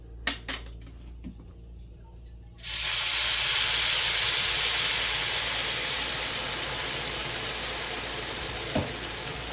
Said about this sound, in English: watch the sizzle.